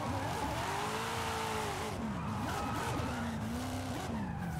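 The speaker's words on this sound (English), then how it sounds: "Drifting right now." Tires squeal and skid as a car drifts at night in Forza Horizon 5, the engine note bending and sliding under a steady wash of road noise, loud and continuous with no talk.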